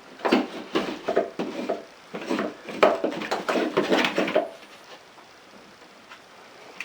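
A flathead screwdriver scrapes and gouges a V into a drywall crack, giving close, loud, uneven scratchy strokes in quick bursts for about four seconds before fading to quiet room tone.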